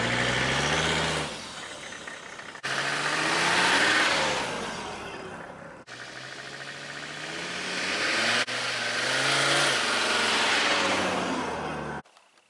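A Mercedes 300SD diesel with a lost belt and warning lights on pulls hard under acceleration, its engine note rising through repeated gear pulls with brief gaps at shifts, loud and close throughout.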